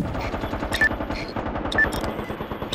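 Automatic gunfire in the PS3 shooter MAG rattles in one continuous rapid burst, loud and close, for the whole moment.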